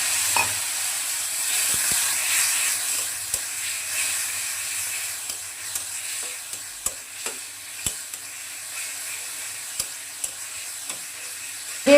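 Spice paste of turmeric and chilli powder with a little water being stirred and fried in a pan for a Bengali dish, a steady sizzling hiss with sharp spoon scrapes and taps at irregular intervals.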